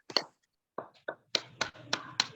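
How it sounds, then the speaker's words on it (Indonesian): A few sharp, separate hand claps in a classroom, spaced unevenly with short pauses between them, close and fairly crisp with no talking. "Sama-sama kita beri aplaus untuk Amni Bahria"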